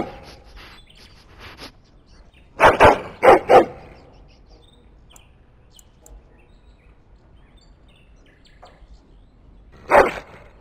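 A hound barking in the video game Dragon Age: Origins, a quick run of three or four loud, close barks followed after a pause by one more bark, with faint background ambience between.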